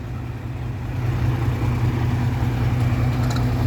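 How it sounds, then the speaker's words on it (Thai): Farm tractor driving up onto a truck for transport, its engine giving a steady, loud, low rumble that holds throughout with no talking. "ดูรถไถขึ้นรถ มั้ง มันขึ้นยังไงเนี่ย"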